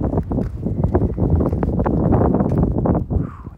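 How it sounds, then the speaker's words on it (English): Gusty wind buffets the microphone out on a frozen lake during ice fishing, a steady rough roar with no talk. "It's going to be windy"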